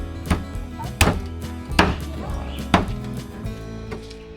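Pork trotters (pata ng baboy) are chopped for boiling, four heavy cleaver whacks about one second apart landing close and loud on a wooden board, with quieter background noise between strikes.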